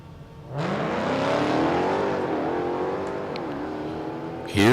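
A Hellcat drag car launches and accelerates hard down a drag strip, its engine note climbing in a loud, sustained roar for several seconds before another burst of noise at the end.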